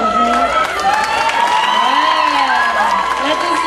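Audience at a Nana-themed evening party in 2006 claps and cheers together, a dense continuous round of applause with high excited shouts and whistles throughout.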